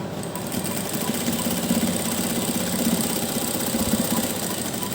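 A sewing machine runs steadily, stitching along the edge of a fabric strip with a continuous fast mechanical whir at moderate loudness.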